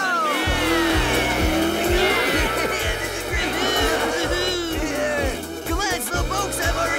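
Cartoon race cars speed around a course. Engines rev loudly and tires squeal over a busy, continuous mix of music and voices.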